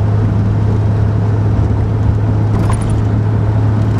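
Steady interior road noise from a car cruising along Highway 15 toward San Carlos, Mexico: a loud, unbroken engine-and-tyre drone with a strong low hum that never changes.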